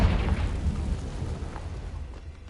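A Confringo spell detonates in Hogwarts Legacy inside an Acromantula cave, a deep rumbling boom that starts loud and rolls into a long, fading low-frequency decay.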